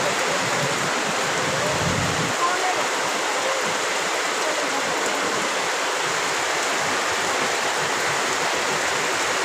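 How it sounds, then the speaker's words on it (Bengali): Heavy rain pours down steadily and loudly without pause, a dense broadband wash of falling water with no voices present throughout. "প্রচণ্ড বৃষ্টি হচ্ছে"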